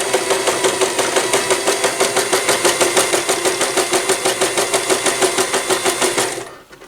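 A sewing machine stitches through the thick corner of a fabric face wipe, a loud, close, rapid rhythmic whirring that runs steadily for several seconds before slowing and stopping.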